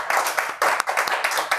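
Applause from a studio audience at a Turkish rap show, a short burst of clapping with uneven, gapped bursts rather than a full sustained roar.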